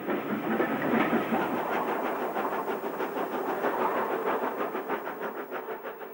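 A train on the Somerset and Dorset railway departs, a steady rumble with a rhythmic clickety-clack of wheels over rail joints, close and moderately loud with no talking.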